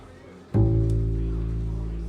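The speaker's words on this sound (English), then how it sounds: "This is my bass." A single low bass guitar note is plucked and rings out, sustaining steadily and fading only slightly.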